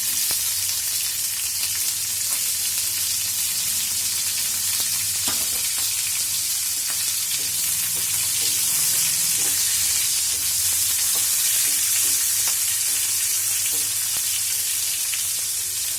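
Capsicum fries in a pan with a loud, continuous close sizzle, broken now and then by the scrape and clatter of stirring; no one talks.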